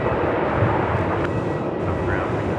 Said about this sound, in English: One of the Link Airways Saabs just touched down there, runway 16.